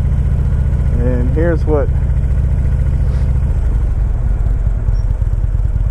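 A 2014 Harley-Davidson Ultra Limited motorcycle engine idles with a steady low rumble throughout, loud and close, while someone speaks briefly over it.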